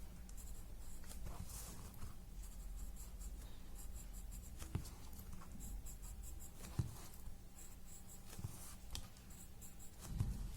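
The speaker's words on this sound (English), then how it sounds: "then add little graphite here from where the lines are emanating." Graphite pencil drawing on paper for a tangle pattern, soft scratchy strokes rubbing and tapping in short bursts, close and quiet, with brief pauses between lines and a faint room hum beneath.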